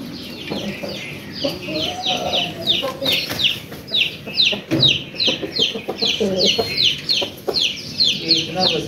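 Chickens and chicks cluck and cheep busily during poultry vaccination, with repeated close calls and peeps in quick succession while a person talks nearby.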